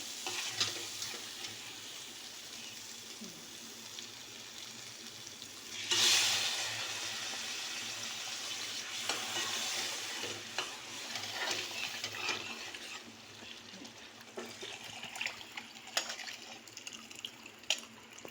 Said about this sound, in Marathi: आता मी याच्यात पाणी ओतून घेते आपल्या मटणाचं.